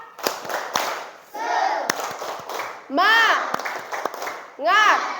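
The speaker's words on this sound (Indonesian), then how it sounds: "Tepuk semangat." A group of children in a classroom answer a teacher's call with the 'tepuk semangat' clapping chant, sharp rhythmic claps mixed with loud shouted chant bursts, close and lively.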